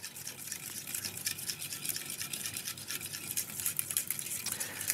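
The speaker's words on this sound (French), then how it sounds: "vous fouettez bien" A whisk beats a homemade yogurt mixture with sugar in a bowl, a fast, steady scraping and swishing that runs loud and close without pause.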